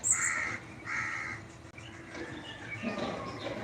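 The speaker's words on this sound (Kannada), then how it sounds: "ಕಾಗೆ ಬಂತ?" A crow caws twice in quick succession, loud and close, followed by quieter background bird sounds and faint rustling.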